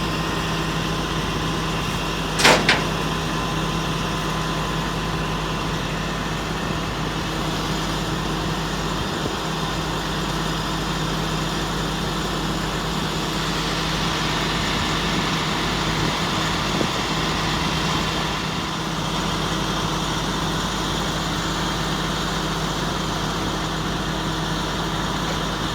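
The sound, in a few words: tow truck engine pulling a Honda Odyssey van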